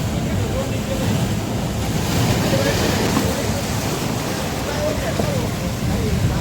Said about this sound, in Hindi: जब समुद्र की अनगिनत लहरें चट्टानों से टकराती है